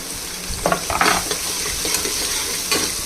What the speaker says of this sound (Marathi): हा एक कापलेला बारीक कांदा तो पण फ्राय करून घ्यायचा आहे